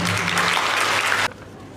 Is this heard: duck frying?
no